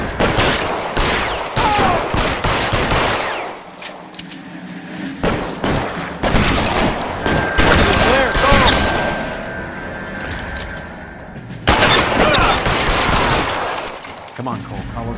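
Loud bursts of gunfire and machine-gun shots in a shootout in L.A. Noire ring out in clusters between pauses, close and sharp, with voices between the shots.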